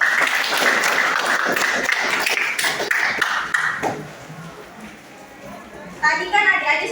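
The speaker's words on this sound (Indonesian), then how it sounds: "Kita berikan aplaus dulu." Students clap in a classroom, dense applause filling the first four seconds, then fading while murmuring voices and chatter continue.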